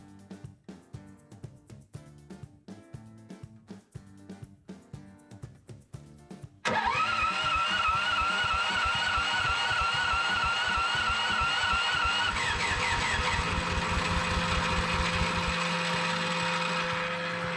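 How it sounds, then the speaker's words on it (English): A DIY autonomous snowblower engine is heard while its starter cranks without engaging. A series of sharp mechanical clicks is followed by a loud, continuous running drone that holds steady until the end. "the starter lost engagement but kept getting power"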